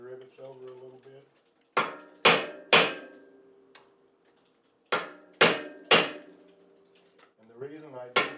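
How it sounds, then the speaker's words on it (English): Sharp metallic hammer strikes doming rivets over with a domer on a leather locking stirrup buckle, in two close groups of three loud blows, with brief talk before and after. "I use a domer and actually dome these rivets over a little bit."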